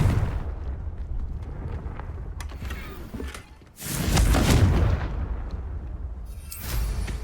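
Fiery Confringo spell blast in the wizarding game Hogwarts Legacy: a loud, broad burst of explosive roar that swells around the middle and lingers, over a steady rumbling background, with a smaller flare near the end.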